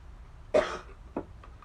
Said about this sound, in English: And are you coughing at the ammonia?